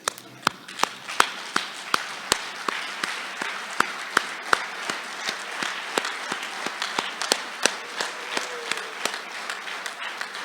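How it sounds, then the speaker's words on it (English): Conference audience at a closing ceremony in Sun City applauding, loose clapping with distinct sharp individual claps over a softer crowd patter, sustained for about ten seconds in a large room. "So I'd like all of you to stand up and give yourself a good applause."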